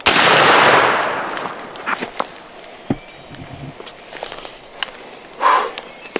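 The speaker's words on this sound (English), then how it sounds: "I had to shoot through that bush." A loud, close shotgun blast at a turkey, fired through a bush on a foggy Pennsylvania spring hunt, opens the clip and rings off. Rustling footsteps and brush noises follow, with a short muffled thump near the end.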